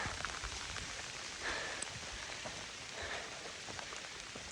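Steady rain falls through a forest along the Appalachian Trail, a soft, even hiss of drops pattering on leaves and ground, continuous and fairly quiet with no voices.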